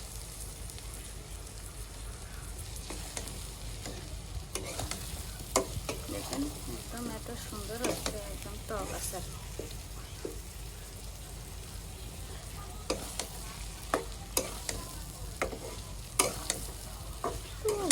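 Olive pickle being stirred and fried in a pan gives a steady close sizzle with repeated spatula scrapes and clicks throughout, while someone speaks briefly.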